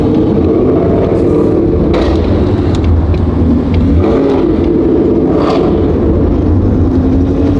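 Eight loud modified Ford Mustangs driving through a city, engines droning and rumbling close by in a continuous roar with occasional revving swells.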